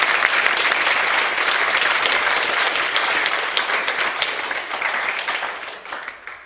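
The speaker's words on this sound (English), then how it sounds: "Let's give those people a round of applause." An audience at a career day for entrepreneurs gives a round of applause, a dense sustained wash of many hands clapping that stays loud and then slowly thins toward the end.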